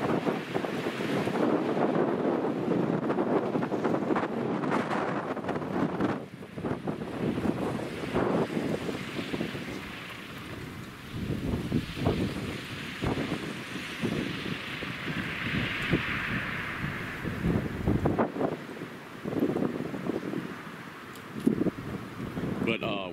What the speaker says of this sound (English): Wind blowing out of the south southwest right now.